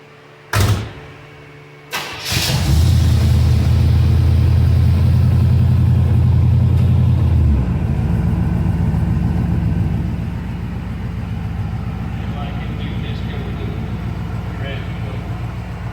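A 1975 Pontiac LeMans V8 cranks and catches after a couple of brief bursts, then roars at a loud fast idle before settling into a lower, steady idle.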